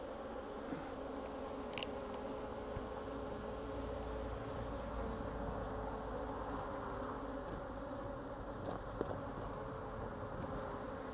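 Honey bees hum continuously over an opened hive box, a low, even swarm drone at moderate distance with faint knocks and handling sounds, no talking.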